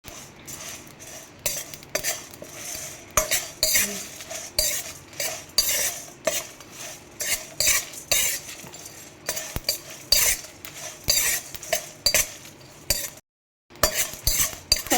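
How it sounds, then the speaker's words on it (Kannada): Cinnamon, cloves, Byadgi chillies and curry leaves fry on a low flame, with frequent metal spoon scrapes and clinks against the pan over a faint sizzle. "ಚಕ್ಕೆ ಮತ್ತು ಲವಂಗ ಹಾಕಿ ಆಮೇಲೆ ಬ್ಯಾಡ್ಗೆ ಮೆಣಸಿನ್ಕಾಯಿ ಕೂಡ ಹಾಕ್ಕೊಳ್ಳಿ ನಂತರ ಕರಿಬೇವು ಇದಿಷ್ಟು ಲೋ ಫ್ಲೇಮಲ್ಲಿ ನಾವು ಇವಾಗ ಫ್ರೈ ಮಾಡ್ಕೋಬೇಕಾಗುತ್ತೆ"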